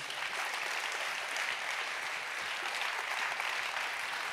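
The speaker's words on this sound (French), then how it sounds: "en attendant, on va vous applaudir" Steady, dense applause from a conference audience at a French network meeting fills the whole stretch, even and continuous with no talk over it.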